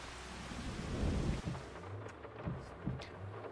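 Farming Simulator 25 game weather: thunder rumbles deeply over steady rain, swelling loudest early on and then fading back to rain noise with a few distant knocks.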